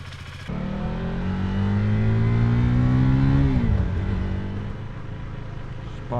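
A beginner's motorcycle running steadily while being ridden, the engine note rising under throttle, then dropping sharply as a gear is shifted down before settling into a steady, loud drone.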